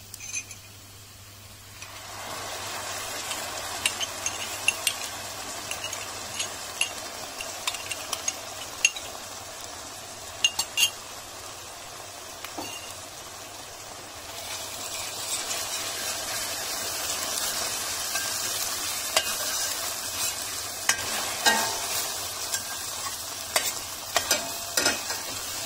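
Tomato paste hits a pan of softened onions and fries while being stirred, a steady sizzle with frequent sharp clicks of the spoon on the pan, rising a little halfway through, nearby and free of talking.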